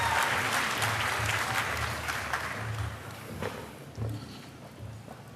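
An audience at the Queen Salote PMA Lifetime Achievement Award ceremony applauds to welcome a performer to the stage, a dense crowd of clapping that starts loud and gradually thins, with a few sharper claps near the end.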